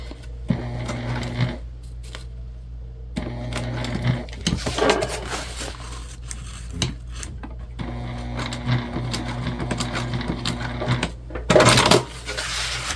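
Sewing machine stitching a Charmaine bucket bag, running in several sustained bursts with pauses between, close and fairly loud, with a few handling clicks and knocks in the gaps and no talk.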